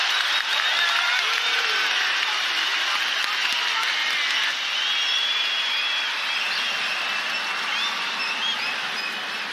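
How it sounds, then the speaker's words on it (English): Roaring crowd at a live fight event late in a round, a continuous loud wash of cheering and clapping with whistles and shouts rising through it, no break for the whole stretch. "Have you ever heard a crowd like this?"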